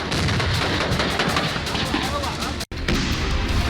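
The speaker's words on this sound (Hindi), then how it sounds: "एक के बाद एक होते जबरदस्त धमाके" Heavy explosions and blasts from strikes in the Russia-Ukraine war, a dense rumbling barrage of booms and gunfire-like cracks, loud and continuous with a brief cut near the end.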